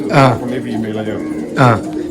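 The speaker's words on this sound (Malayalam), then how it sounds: "കയ്യിൽ നിന്ന് തന്നെ കുറുക്കുന്നുണ്ട് പ്രാവ്" Pigeon in a loft cooing close by in two swelling, throaty bursts separated by a brief pause, with faint background murmur between them.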